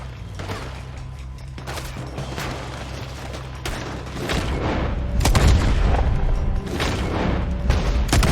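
Gunfire in a Red Dead Redemption 2 shootout: booming shots and scattered rapid reports over a low rumble, growing denser and louder in the second half.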